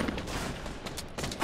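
Gunfire from the Fortnite video game crackles in quick bursts through a dense, noisy game mix, with several sharper shots standing out near the end.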